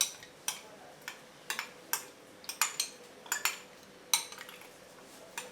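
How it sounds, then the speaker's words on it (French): A spoon scraping condensed milk out of its container, a quiet run of a dozen or so light clicks and taps at an uneven rhythm, close and alone. "prends la cuillère pour racler dedans"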